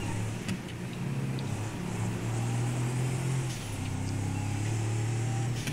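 Dubsta 2, a Mercedes G63 G-Wagon SUV in GTA 5 Online, accelerating with its turbo engine: a steady, loud, close engine drone with rising and falling pitch throughout, no speech.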